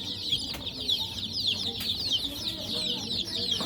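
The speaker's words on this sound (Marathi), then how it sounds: "92 अंड्यापैकी 72 पिल्ले निघालेत" Day-old desi gavran chicks, about seventy of them hatched together, fill the air with a dense, continuous chorus of high-pitched peeping heard nearby.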